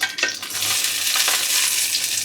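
Eggplant slices frying in hot oil in a pan for a saffron chicken and eggplant tahchin give a loud, continuous crackling sizzle, with a few stirring clinks near the start.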